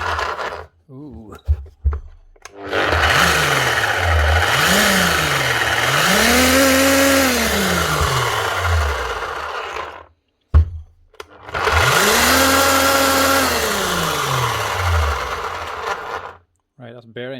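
Bosch GBH 8-45 D rotary hammer with failed bearings and a loose motor, run in two long bursts with rough grinding and whining pitch sweeping up and down, near and loud, separated by short pauses.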